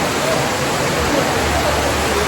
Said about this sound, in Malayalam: കാരണം ഫുൾ മഴ തന്നെ വെള്ളത്തിൽ.